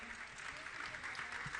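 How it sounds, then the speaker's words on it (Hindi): Faint, distant applause from an audience at a religious gathering honouring a patron family: a soft, continuous wash of clapping from a crowd, heard at a low level with no distinct voices. "आप जोरदार ताली बजाकर का सम्मान करें"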